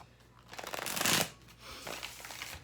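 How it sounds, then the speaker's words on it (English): Light Seers tarot cards are shuffled by hand in a short, close riffling burst that swells to a loud peak and then eases into softer card rustling. "we're going to use a little tarot for this. I'm using Light Seers Tarot by Chris Ann."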